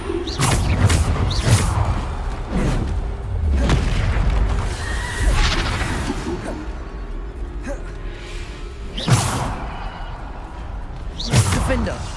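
Bombarda blasting spells in a Hogwarts wizarding video game: a string of heavy booming impacts spaced a few seconds apart, mixed with voices calling out spell names and ongoing combat noise.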